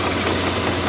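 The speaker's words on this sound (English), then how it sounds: "when I do a cold start, I can clearly hear a knocking sound from the engine bay" A Jaguar S-Type 4.2 V8 engine knocks on a cold start, a steady dense mechanical rattle under the running engine that stays loud and close for the whole moment.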